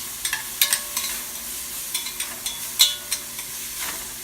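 Carrot and onion fry in hot oil in a hot pan, a steady sizzle broken by repeated stirring scrapes and clicks, close and fairly loud, with no talking.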